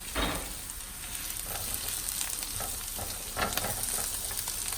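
Fennel cooking down in a pan hisses steadily while a utensil scrapes and stirs it in several irregular strokes, close and moderately loud, no speech over it.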